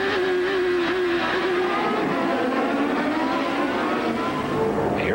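IndyCar race cars at the 1997 Sunbelt IndyCarnival roar past on the track, a loud continuous engine drone with shifting pitch as one car overtakes another, steady and close throughout.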